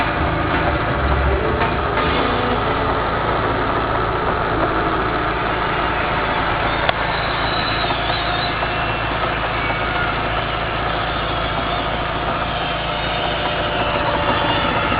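Running motors hum and buzz steadily and loudly, one of them trying to self-start without turning its rotor, with a brief click partway through.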